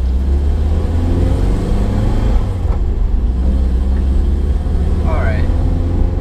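Inside a car on the road there is a steady, loud low rumble of engine and road noise that persists throughout, with a faint chirp near the end.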